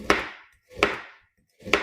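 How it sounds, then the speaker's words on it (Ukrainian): Three firm knife strokes chopping through a frozen lemon on a board, evenly spaced and close. "Далі я нарізаю лимон"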